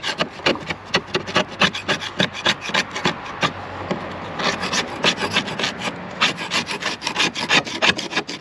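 Hand tool scraping the surface of a bass boat during restoration, a close, rhythmic rasping of repeated back-and-forth strokes, steady and fairly loud with no talk over it.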